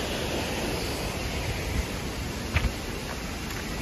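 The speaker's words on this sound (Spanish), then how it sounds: "Este es el recorrido de la cascada o la catarata" Pulhapanzak waterfall in Honduras sends up a steady broadband roar of rushing water, constant and fairly close, with a couple of faint knocks partway through and no voices.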